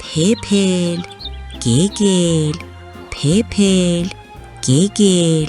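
A voice imitates frogs croaking, chanting four rhythmic, sing-song nonsense calls up close with short pauses between them.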